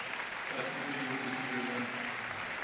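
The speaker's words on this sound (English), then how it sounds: "the crowd really appreciating all the other Best of Breed winners who are now leaving the ring" A large crowd at the Crufts dog show applauds steadily throughout, a broad sustained patter of clapping with a commentator's voice over it.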